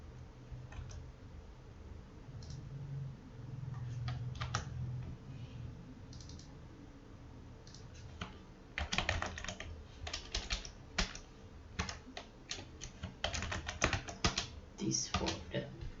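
Typing on a computer keyboard, quiet scattered keystrokes at first, then faster close bursts of clicking in the second half, with occasional low background sound.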